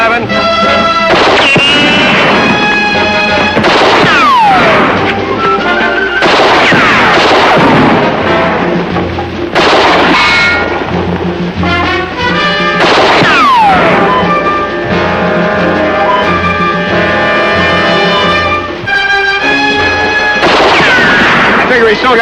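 Gunshots in a shootout from the 1966 crime drama The Felony Squad, loud repeated blasts over dramatic orchestral music that runs throughout.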